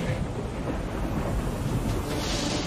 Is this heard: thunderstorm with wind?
yes